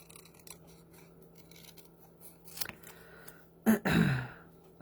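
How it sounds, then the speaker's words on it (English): Paper banana shapes being cut out with scissors, a few soft snips near the end with a louder crisp cut, close up and quiet. "I can just cut them out"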